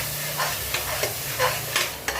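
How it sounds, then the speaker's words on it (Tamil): Tempering spices sizzle in a hot pan for tomato chutney, a continuous close frying hiss broken by a few scraping stirs, with no talking. "இப்படி ஒரு தாளிப்பு மட்டும் போட்டு வச்சுக்கேன்"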